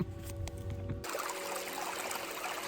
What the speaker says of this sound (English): We just finished crossing this brook here called Stony Brook.